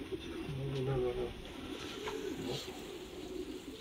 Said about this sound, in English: Now we're in the front of the loft, and we will see a very, very nice pigeons, the Blue Queen.